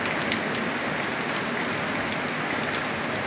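Steady rain from Typhoon Uwan falling on a surface, a constant dense hiss with a few distinct drops, continuous and fairly loud with no talking.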